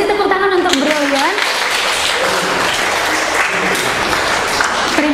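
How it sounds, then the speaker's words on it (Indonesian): Classroom applause from students clapping together for a classmate, steady and fairly loud throughout, with a few voices and a brief spoken phrase over the start. "Oke, kasih tepuk tangan untuk Brilian."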